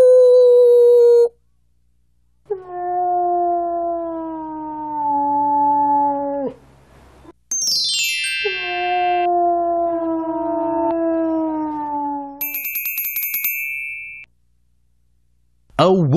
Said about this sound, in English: A wolf howls.